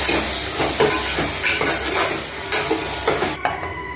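Mint and coriander stirred into a simmering chana biryani gravy, with a ladle scraping and clinking against the pot over a constant loud sizzle, the strokes repeating in an uneven rhythm.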